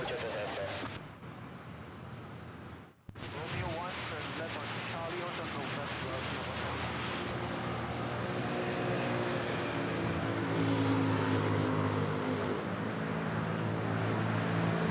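A KLM Boeing 777 touches down at Manila Airport, its broad engine roar and rushing noise steady and loud throughout, with tonal engine whine rising later, while a person talks over it.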